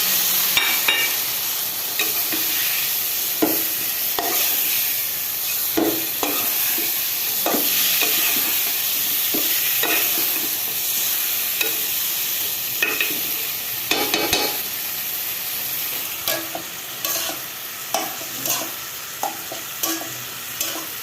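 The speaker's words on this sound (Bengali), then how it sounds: "এই যে মাংস আলু একসাথে কষাই করবো, মশলা কষানো শেষ হয়ে গেছে।" Meat and potatoes stir-fry together with spices in a pan, a loud, continuous sizzle broken by repeated sharp scrapes and clinks of a spatula, with no voices.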